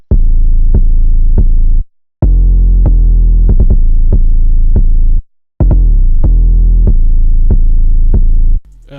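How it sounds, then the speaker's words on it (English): Hard-hitting Mask 808 bass from Emar booms in deep, loud repeated hits, some sliding in pitch, following root notes in a steady pattern with brief silent breaks. "I started by laying down this 808. It's a Mask 808 by Emar,"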